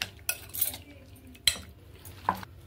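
Spoon scraping and stirring in a bowl as raw prawns are mixed with masala and squeezed lemon juice, with quiet intermittent clinks and a few sharper knocks against the bowl.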